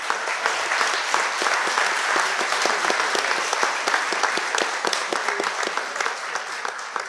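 Audience applause at a live event in Kaisariani, Greece: a loud, sustained round of many people clapping, dense with crisp individual claps, continuing steadily throughout with no speech.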